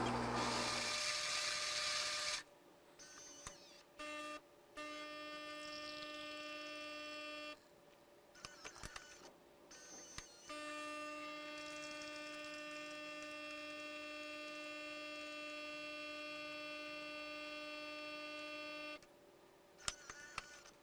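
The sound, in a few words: Gaggia Cadorna espresso machine grinding and brewing coffee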